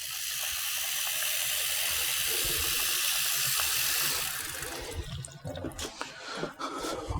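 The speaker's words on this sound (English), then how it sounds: "We're going to put it like this and put it in some water." Water runs steadily from a tap for about four seconds, then stops, and cut potato matchsticks drop into the water with a few soft splashes and drips nearby.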